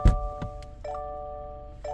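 Seatbelt warning chime in a 2024 Subaru Ascent Premium, parked: a brief thump, then two repeated two-tone electronic dings about a second apart, clear and close inside the cabin.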